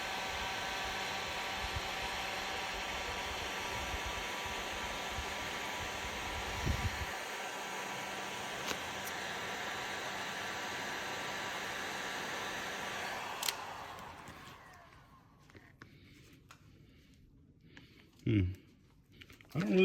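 Heat gun blowing hard on pink window tint film on a Jeep Cherokee, a steady close airy whoosh with faint clicks that cuts off near the end, leaving quiet room sound and a couple of soft knocks.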